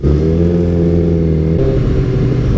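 Kawasaki ZX-14r sportbike launching at a drag strip: a loud, close engine roar with a steady rising pitch, then a shift in tone as it pulls away.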